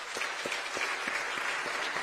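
Audience applause during a speech by Roberta Metsola in Łódź, a dense, even patter of many hands clapping throughout, with a faint rhythmic pulse in the clapping and no speech over it.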